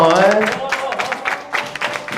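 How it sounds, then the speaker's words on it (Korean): Clapping from an audience at a youth worship service, scattered claps rising and falling while a voice speaks over them. "박수 계속 쳐주셔도 됩니다"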